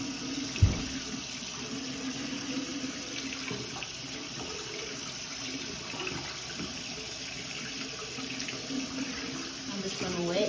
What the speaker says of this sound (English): first I'm just gonna turn the water on, adjusting the temperature